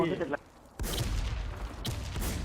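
Bursts of gunfire in a PvP clan-war video game, two loud blasts with rumbling tails, after a brief moment of talk.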